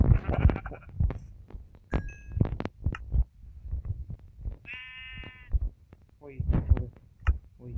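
Sheep bleating in Minecraft, a few short wavering bleats rising between dense game sounds, thumps and a person talking through most of the stretch.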